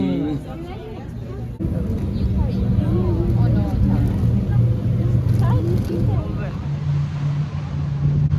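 A shuttle boat's motor hums steadily while ferrying passengers from a cruise ship toward an island, with people chattering nearby throughout.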